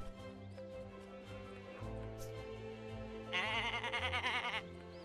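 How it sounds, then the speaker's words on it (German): A sheep in the farming video game Summer in Mara gives a short wavering bleat near the end, over a soft looping game soundtrack. "Wo ist denn das Schaf?"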